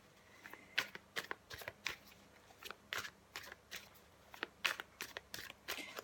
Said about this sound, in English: So I'm just going to give the cards another shuffle